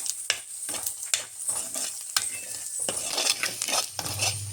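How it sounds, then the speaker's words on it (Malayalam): A spoon scrapes and stirs through thick masala gravy for a fish curry in a pan, repeated strokes over a low, steady sizzle, close by. "നല്ലപോലെ ഒന്ന് ഇളക്കി ഈ മസാലയൊന്ന് പിടിപ്പിച്ച് എടുക്കാം"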